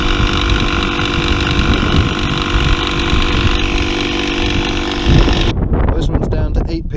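An Audew 12V portable tire pump runs loud and steady with a rattly mechanical drone, inflating a car tyre, then cuts off near the end as brief sounds follow.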